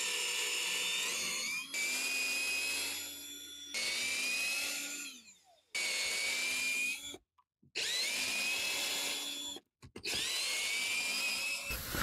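Power tool buzzing in repeated bursts as it backs out transmission pan bolts on a 2004 Toyota Solara, each whine a few seconds long with brief gaps and short pauses between bolts, close and loud without talk.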